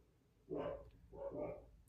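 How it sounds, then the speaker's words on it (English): Dogs bark indoors at home in two separate bursts, moderately loud and fairly close, with no talking over them. "Can you guys hear my dogs barking?"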